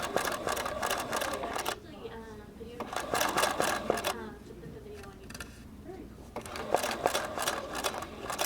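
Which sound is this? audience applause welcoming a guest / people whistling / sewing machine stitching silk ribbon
sewing machine stitching silk ribbon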